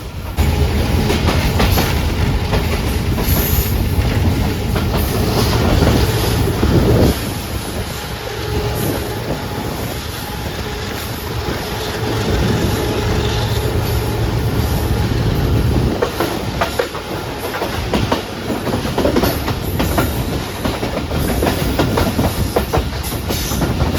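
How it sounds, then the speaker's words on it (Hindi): Shalimar Express passenger train running on the main line from Karachi toward Nawab Shah, crossing a bridge; a steady loud rumble with clickety-clack of wheels and occasional squeals and hiss, heard from on board. "मरान ब्रिज से गुजर रही है हमारी ट्रेन।"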